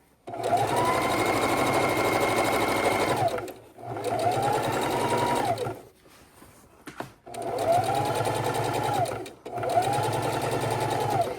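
A sewing machine stitches around the neckline of a bib in steady runs, stopping briefly for pivots and then starting again, loud and close with no voices.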